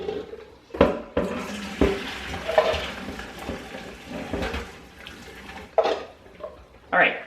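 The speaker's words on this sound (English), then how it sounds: "the sink is just draining super slowly" Water trickles and gurgles in a slowly draining kitchen sink, with scattered clinks and knocks of dishes over the steady running sound.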